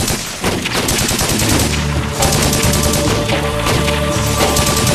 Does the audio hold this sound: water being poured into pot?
no